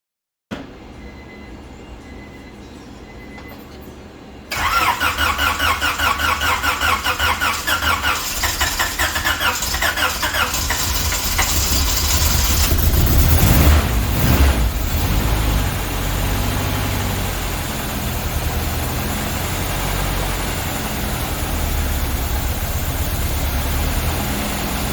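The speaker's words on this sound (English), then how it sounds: "So we'll crank her over and see what we got." A car engine cranks over, catches and settles into a loud, steady idle close by with no talking, the running engine filling most of the stretch with a low rumble and a brief surge midway.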